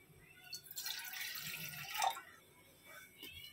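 About 70 ml of water is poured for home-made green tea, a short, soft trickling splash lasting a second or so, then quiet dribbles.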